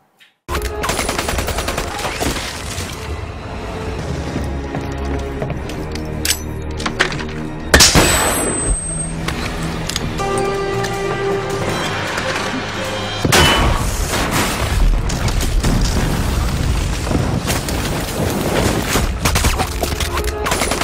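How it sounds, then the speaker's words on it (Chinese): Hand grenades are thrown one after another and explode in a film action scene, with heavy booms, bursts of rapid gunfire and a dense, loud, close barrage that carries on with brief lulls. "打开一个什么地方就扔手雷啊，一颗接一颗的扔"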